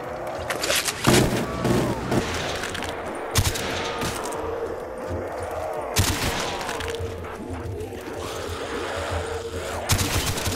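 Rapid bursts of heavy gunfire and booming blasts from powerful weapons in a Black Ops 3 custom Zombies map, loud and close, recurring throughout with a few sharp peaks, while a voice talks intermittently over the shooting.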